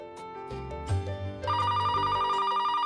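A telephone rings with a bright, repeating electronic tone that starts after a brief musical swell and continues steadily, loud and alone without talk.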